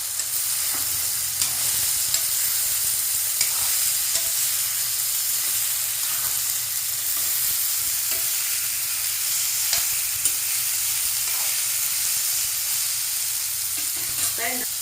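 Red pumpkin pieces sautéing in a pan with softened tomatoes for a tamarind curry, a continuous bright sizzle with occasional stirring scrapes and small pops, close and steady throughout.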